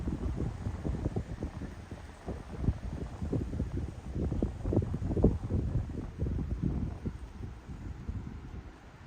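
Wind gusts buffet the microphone on a mountain overlook above a valley along a long-distance hiking trail in Virginia, a rough, uneven low roar rising and falling across the whole stretch with no voices.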